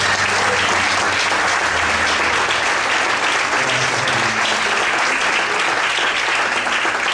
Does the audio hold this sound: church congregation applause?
yes